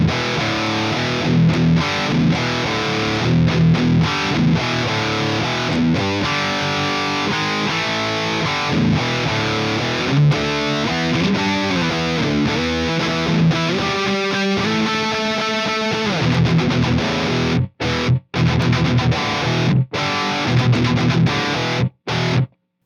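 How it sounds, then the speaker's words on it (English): Heavily distorted electric guitar riffing through a Bogren Digital vintage cabinet simulation, loud and continuous, with chugging rhythm and sustained chords, broken by a few short gaps near the end. "So the vintage cab sounds like this."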